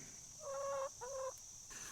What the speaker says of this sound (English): And there's a chicken right there in the pig pen.